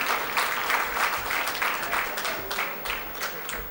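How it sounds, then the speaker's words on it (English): Sustained crowd applause fills the hall at a convention valedictory session, a steady dense wash of many hands clapping at a moderate distance, continuing without a break. "Let's keep that applause going"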